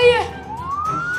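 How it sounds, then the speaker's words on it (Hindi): A police siren wails loud and close, its rising and falling electronic tone sweeping steadily upward over a short stretch. "पुलिस का सायरन, पुलिस आ गई है।"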